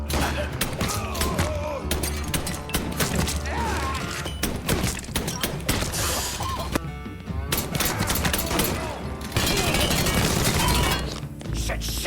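Gunfire in the Mafia 3 video game, a chaotic stretch of rapid shots and heavy thuds crackling over a dense game soundtrack for the whole stretch, with loud bursts building near the end.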